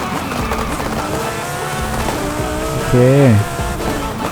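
A Lamborghini Huracan Tecnica in Forza Horizon 5 brakes hard: a droning engine gives way to a loud tire squeal with a falling pitch, while someone talks over the racing.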